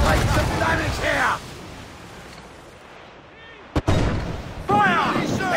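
Naval cannon and mortar fire rings out in a pirate-era sea battle from Assassin's Creed IV Black Flag, a couple of sharp booms amid crew shouting and rushing water, with voices yelling throughout.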